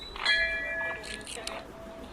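A newly installed temple bell at a village shrine rings once with a bright, metallic tone that hangs and fades over about a second, with a murmur of voices and background noise around it.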